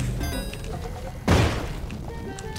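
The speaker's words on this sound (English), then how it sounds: "I have to use the bomb here." A bomb goes off in a video game as a single sudden, heavy boom about midway, standing out above steady game sound and music.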